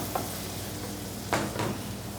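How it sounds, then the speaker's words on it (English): Peaches sizzling and caramelizing in a pan with melted butter, a steady soft hiss broken by a couple of brief scraping stirs near the end. "So we're gonna add our peaches to that. Give it a quick stir."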